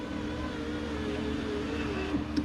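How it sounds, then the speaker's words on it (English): A newly replaced rear power window motor on a 1998 Pontiac Grand Prix hums steadily as the glass moves, a moderate continuous whir with a faint shifting tone, ending with a small clunk and no talking. "We got power windows again in the rear."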